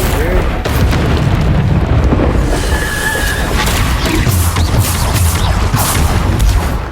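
A Bombarda spell goes off in Hogwarts Legacy combat, a loud continuous booming blast with crashing debris and game effects, and a voice is heard over it.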